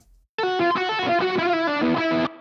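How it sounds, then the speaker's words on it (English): A distorted electric lead guitar with a delay effect plays a short run of notes with echoing repeats trailing each one, loud and alone, reverb off. "so we can hear just what the guitar delay is doing"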